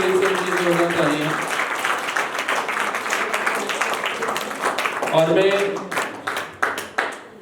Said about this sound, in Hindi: एक बार फिर से विवेक सर की जोरदार तालियां